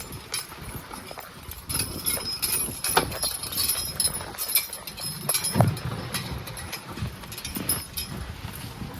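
Hooves of a pair of two-year-old draft horse colts clop at a walk, a loose, uneven rhythm of nearby footfalls with faint jingling over low background noise.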